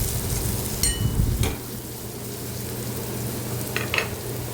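About one and a half to two spoonfuls of ghati masala spice blend frying in oil for cluster bean (gawar) bhaji, with a low sizzle and a few sharp stirring clinks near the start and end, nearby and moderately quiet.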